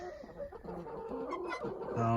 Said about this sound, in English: There's some of our chickens.